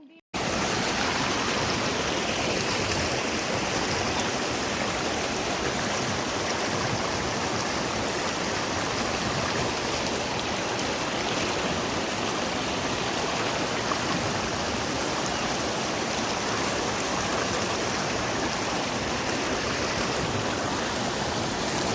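River water rushing steadily at Mt. Acato, a broad, constant roar of flowing water that stays loud and unbroken throughout, with no voices standing out.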